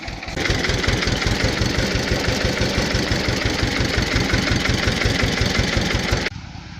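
A car engine runs close by with a steady, rhythmic, throbbing chug for several seconds, then cuts off abruptly and leaves quiet outdoor background.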